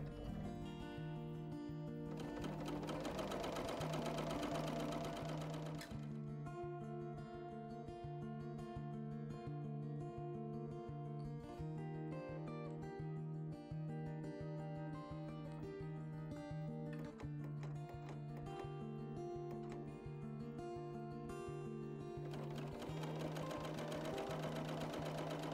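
A BERNINA overlocker test-stitching with thick decorative threads, its motor running in a steady, fast mechanical hum with a brief louder burst near the start and a rise toward the end.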